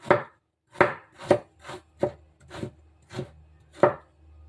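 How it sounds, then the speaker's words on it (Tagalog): A knife slices ginger on a cutting board, giving eight distinct, evenly spaced chops, close and crisp, with no voices. "So ngayon, magkayat po tayo ng ginger."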